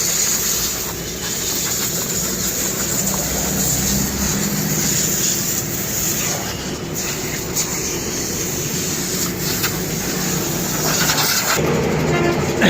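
Compressed air blasting dust out of a car during a workshop service, a loud continuous hiss with a rumbling background, steady for the whole stretch and heard close up, with no talking.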